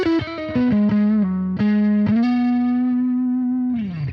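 Electric guitar with a humbucker pickup played through a Mooer Radar with distortion, a loud, close run of sustained, gritty notes with quick changes, then a long held note that fades at the end.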